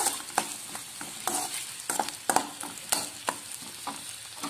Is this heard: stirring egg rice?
yes